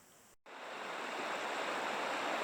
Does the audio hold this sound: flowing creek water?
yes